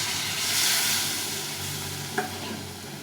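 Boiled water is poured into a sizzling onion-spiced curry, with a loud, continuous frying hiss and steam, a swelling rush of sound early on and one brief clink near the end.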